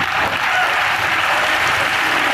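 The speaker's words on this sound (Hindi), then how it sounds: "अब जोरदार ताली होनी चाहिए।" At a comedy show, an audience claps loudly and continuously, thick close applause holding a constant level from start to end.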